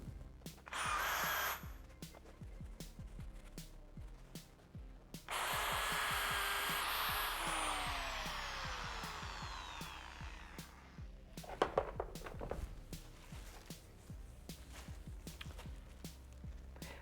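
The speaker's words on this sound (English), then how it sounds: "that's about as good as I'll be able to do with the wire brush" Power wire brush working over a damaged BMW G310R motorcycle crash bar to smooth the repair, coming in loud bursts of grinding, scratching whir broken by pauses and handling clatter.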